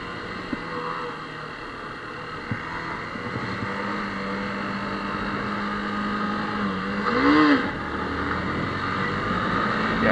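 A Wolf motorbike pulls away from a green light with a steady, moderately loud engine drone that swells into a brief rev near the end. The rider's voice is faint.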